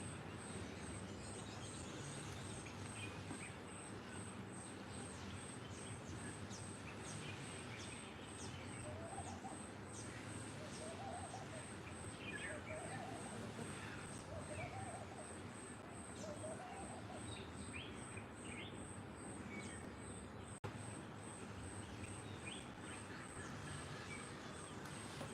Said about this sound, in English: When I do my night session, you get to hear the birds, the crickets, the toads.